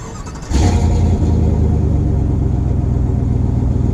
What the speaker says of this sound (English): Setting off in the 2019 Chevy 1500, and like I said, this is the Trail Boss